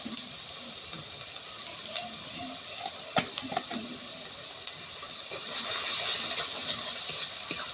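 Spices frying in a pan for a pangas fish and eggplant curry, a steady close sizzle with scattered stirring scrapes and clinks, growing a little louder and hissier toward the end.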